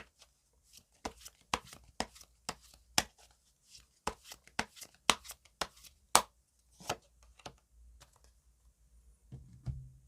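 Tarot cards are shuffled and drawn, giving a string of sharp, close card snaps and slaps in irregular bursts, followed by a soft rustle near the end; no talking.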